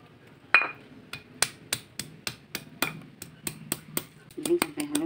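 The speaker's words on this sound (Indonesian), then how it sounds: "Sekarang kita giling dulu kunyit dengan jahe." Turmeric and ginger are ground by hand for a fish curry, making a steady series of sharp, close knocks about twice a second that quicken and crowd together near the end.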